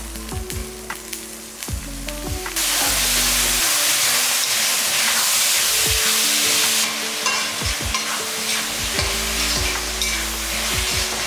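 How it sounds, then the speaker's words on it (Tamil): Tomatoes and onions sauté in a pan for a chicken kulambu, a steady loud sizzle with repeated clinks and scrapes of a stirring spoon, no talking. "இந்த அளவுக்கு நல்லா தக்காளி, வெங்காயம் எல்லாமே நல்லா வதக்கியாச்சு."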